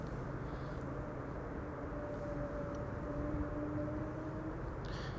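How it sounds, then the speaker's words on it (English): A KLM Airbus A330-200 arriving at Amsterdam Schiphol from Vancouver as flight 682, heard as a steady distant jet engine rumble with a faint whining tone, continuous and low throughout. "This is KLM flight 682 arriving from Vancouver, Canada. A330 200, 9 hours and 6 minutes underway."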